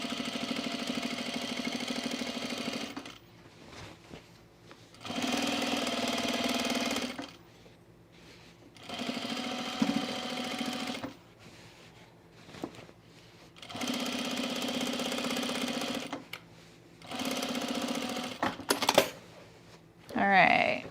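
A sewing machine stitches a seam on a men's utility jacket, running in about five steady bursts of a few seconds each, separated by short quiet pauses with light handling noise.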